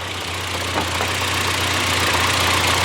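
BMW E30 M3 Sport Evolution four-cylinder engine idling with the hood open, a steady low hum with faint regular knocking pulses, close and unbroken.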